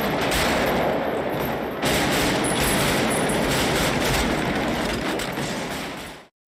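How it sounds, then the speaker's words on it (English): Sustained automatic weapons fire from a few guns in a street firefight in the 1995 film Heat, loud and dense with overlapping bursts, briefly dipping near two seconds before continuing and then cutting off abruptly. "One of the best movies to highlight the sound of even just a few automatic weapons in combat is Heat from"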